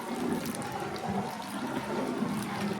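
Reduced jaggery syrup pours in a continuous, soft liquid stream for a few seconds, close by and fairly quiet, with no voices.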